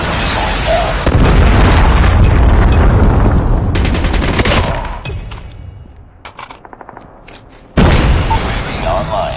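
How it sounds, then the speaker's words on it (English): A Predator missile strike in Call of Duty Mobile, heard as a long, heavy roaring explosion with sustained low rumble and crackling bursts, fading to near silence before another loud blast erupts at the end. "Predator missile inbound."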